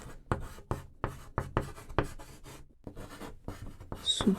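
Pen writing on paper, a series of sharp close scratchy strokes in irregular rhythm with short gaps, ending in a faint squeak, with no talking.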